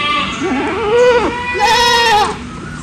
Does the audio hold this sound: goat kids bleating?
yes